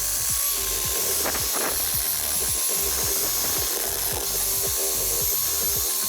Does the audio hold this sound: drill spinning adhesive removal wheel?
yes